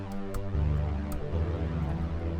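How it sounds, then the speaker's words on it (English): GarageBand synth notes with a long release and a swirling, phaser-like sweep, recreating a Stranger Things style sound, sustain and overlap in a dense, continuous tone with a few brief bright clicks. "it's like a homemade phaser plugin for this."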